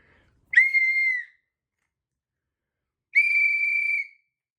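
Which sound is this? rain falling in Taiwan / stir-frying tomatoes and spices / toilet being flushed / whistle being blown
whistle being blown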